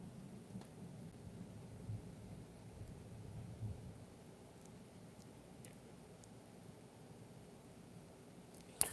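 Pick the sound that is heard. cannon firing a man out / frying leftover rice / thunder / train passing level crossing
thunder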